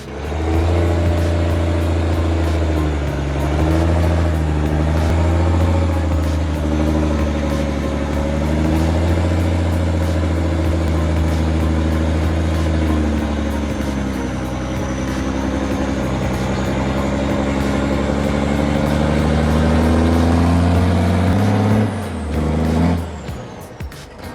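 A Mack R690 ST log truck hauling a full trailer of long logs labors through mud and up a long slope, its deep engine droning loud and steady with shifting revs before cutting off near the end.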